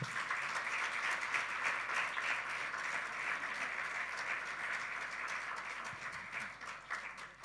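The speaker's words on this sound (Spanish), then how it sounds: "Dele un buen aplauso al Señor" Applause fills a church as the congregation claps steadily for several seconds, a fairly faint, even patter with a low hum underneath.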